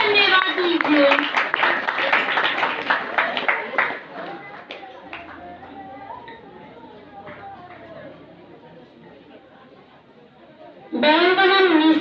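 Congregation at a healing prayer service clapping loudly and rapidly for several seconds, with voices mixed in, fading into quieter murmuring and talk, then a fresh loud burst of clapping near the end.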